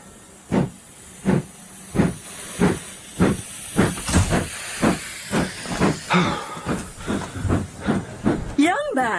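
A steam train at a station chuffs and hisses in a steady, loud rhythm of repeated bursts, with a sharp whistle-like squeal near the end.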